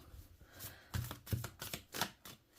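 Tarot cards being overhand shuffled, a quick series of soft riffling slaps in uneven bursts, close and fairly quiet, with no voices.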